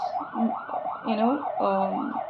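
An ambulance siren wails in a steady rising-and-falling cycle, moderately distant and fairly soft, repeating several times as it passes.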